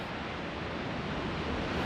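Heavy surf at North Bondi beach in Sydney, where a massive set of ocean waves breaks against rocks, makes a loud, continuous broadband roar with no pauses.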